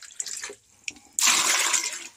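Cold water pours and splashes into a dog's bath, starting abruptly partway through and continuing as a loud, steady gush after a few faint knocks and movements.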